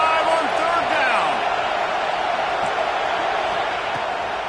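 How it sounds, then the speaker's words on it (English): The Ohio State Buckeye home crowd roars in a loud, sustained wall of cheering on a third down against Penn State, with a broadcast voice faintly over the top. "The Buckeye crowd alive on 3rd down."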